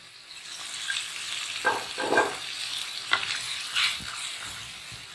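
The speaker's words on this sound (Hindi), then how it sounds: "चिकन चना हांडी बन रहा है।" Chicken chana karahi cooks in a pot with a soft continuous sizzle, broken by a few louder scraping stirs and clanks of a spoon against the metal.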